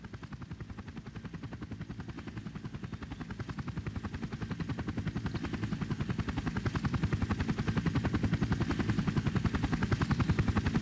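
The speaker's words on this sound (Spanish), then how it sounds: "¿Es un helicóptero de los rusos?" A helicopter in the video game Hitman: Silent Assassin, its steady rotor chop thudding rhythmically throughout, growing slightly louder as if approaching.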